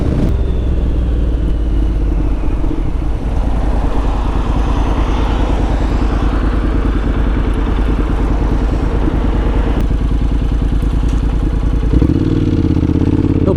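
Honda NC750X motorcycle on a local road ride, its parallel-twin engine droning steadily up close under heavy wind buffeting, the note shifting briefly near the end as the bike changes pace.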